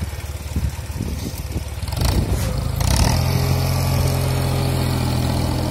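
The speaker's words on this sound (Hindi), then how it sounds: "दोस्तों ट्रैक्टर में तो पूरा जोर है।" Sonalika DI 22 tractor engine labouring under an overloaded heap of soil, a loud close diesel rumble with irregular chugging that rises into a heavier, sustained strained roar after a few seconds.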